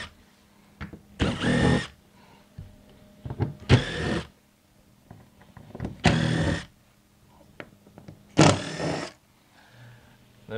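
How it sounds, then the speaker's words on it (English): A power screwdriver or drill removes screws one by one down the column of a door jamb clamp on a window or door balance system, giving four separate whirring bursts of about half a second each, with quiet gaps between them. "we're going to start by removing these screws all the way down the column"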